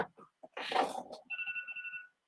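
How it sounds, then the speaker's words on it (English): A mobile phone alarm goes off at night during a home Lego build, a short electronic tone pulsing in quick repeated beeps right after some nearby shuffling and a burst of noise. "Why is my phone's going off as an alarm?"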